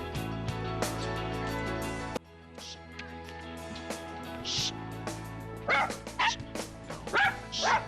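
A golden retriever gives a string of sharp barks and yips, close and loud, with some whimpering, over a steady background hum.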